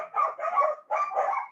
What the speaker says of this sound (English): Got some dogs going crazy here.